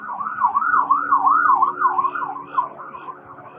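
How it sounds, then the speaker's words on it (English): Ambulance siren wailing in a steady up-and-down sweep as it passes outside a garden with raised beds, fairly loud and alone, fading slightly toward the end. "ambulance is going by."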